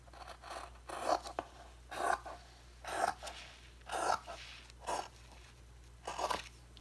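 Scissors snip through paper for journal covers in a regular series of about seven crisp, close cuts, each a short crunchy burst separated by brief quiet pauses.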